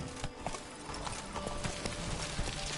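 A horse's hooves clip-clop in rapid galloping rhythm in the video game The Witcher: Blood and Wine, a quiet steady patter mixed with in-game ambience.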